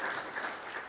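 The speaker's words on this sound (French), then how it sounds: "Je pense qu'on peut dès à présent applaudir nos intervenants." An audience at a corporate talent event applauds the speakers, a brief, faint, even patter of many hands clapping heard from a distance for about a second.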